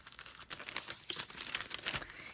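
Crinkly plastic packaging from seam binding and bias tape rustles and crumples in quick, irregular bursts, soft and close with no voices.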